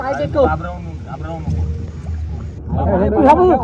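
A boat sets out on water during a Ganesh idol immersion in a village, with motion and wind noise running under loud, excited shouting and talking from several people close by.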